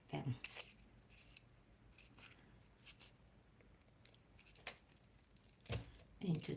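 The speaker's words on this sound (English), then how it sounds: "use the scissors" Scissors cut aluminum foil with several sharp crisp snips and crinkly rustles, close and quiet, separated by pauses and soft handling noises.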